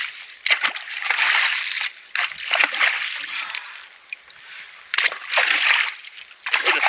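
Muddy swamp water being dug into and sloshed around at a makeshift watering hole, loud repeated splashing bursts in uneven waves up close, with brief pauses between scoops.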